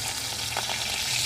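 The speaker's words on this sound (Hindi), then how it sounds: "इनको हल्की आग पे फ्राई करना है, तेज़ आग पे करेंगे ये जल जाएंगे और कच्चे रह जाएंगे" Beef kebabs frying in oil over a low flame, a steady close crackling sizzle with a faint clink partway through.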